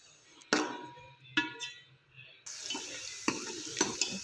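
A few hollow clanks of a utensil against a wide, open pot, then two chopped medium onions hit two cups of hot oil and a bright, continuous sizzle takes over, with light stirring knocks.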